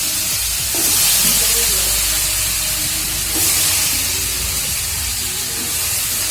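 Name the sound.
vegetables added to a frying pan, sizzling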